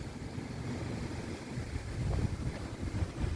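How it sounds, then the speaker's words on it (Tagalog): Strong wind blows across a mountain peak, a steady close roar of gusts buffeting the microphone with rising surges toward the end and no voices. "Kahit ganyan kalakas ang hangin,"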